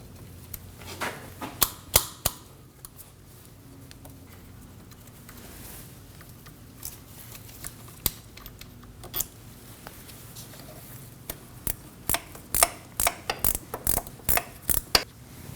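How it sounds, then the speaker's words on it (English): A ratchet clicks in quick bursts while loosening two 14 mm bolts on a 2003-2006 Subaru Baja, sharp close ratcheting pulses separated by quieter pauses, with a busier run of clicks near the end. "We can go ahead and remove the two 14 millimeters holding on our cable."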